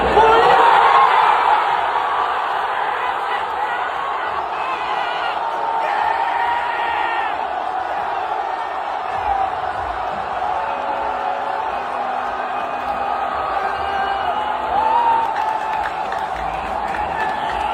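A World Cup crowd roars as the ball hits the net, a loud sustained wash of cheering, whoops and yelling from Argentina fans that slowly eases but stays dense throughout.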